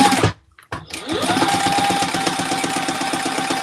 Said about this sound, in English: All right, let's top stitch this.